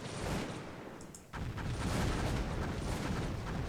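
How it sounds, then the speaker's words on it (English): Grenades burst against a blockhouse during a desert battle in a strategy war game, a muffled lull broken by an abrupt boom followed by a rolling, crackling fusillade of blasts. "my grenadier squad is advancing, and is going to the blockhouse in order to throw grenades"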